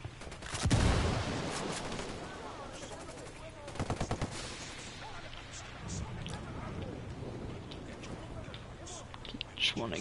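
Gunfire and a grenade blast in the video game Ghost Recon Wildlands, a strong low boom early on followed by rapid bursts of shots, with players talking throughout.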